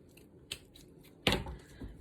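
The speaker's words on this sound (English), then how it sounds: "I'm just going to cut it wide enough for our little pocket on the bottom" Scissors cut through a strip of garter lace for a craft journal, a soft snip followed by a sharper, louder snip and a faint click, close and quiet with no talk.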